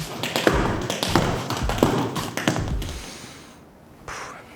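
Rapid, crisp tap-dance shoe strikes in rhythmic bursts on a hard floor, close and fairly loud, fading into quiet near the end.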